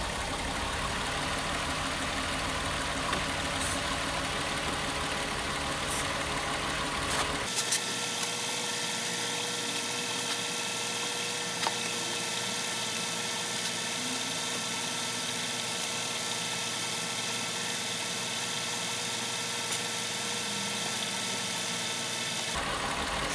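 A Mk4 Volkswagen Jetta engine idles steadily for the whole stretch, a constant mechanical drone that drops noticeably in low rumble partway through as spray is applied around the intake gaskets, with no voices.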